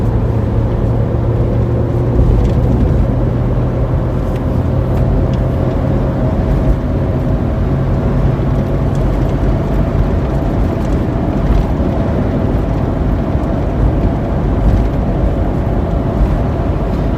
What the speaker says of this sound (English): I do hear a real high-pitched road noise coming from them